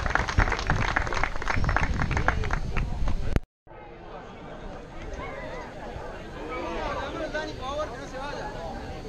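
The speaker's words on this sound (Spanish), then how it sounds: "Fuerte el aplauso para ellos." Clapping from a crowd at an outdoor mountain bike race podium ceremony, moderately loud and mixed with crowd chatter, then after a short cut a quieter scene with distant voices and birdsong-like chirps.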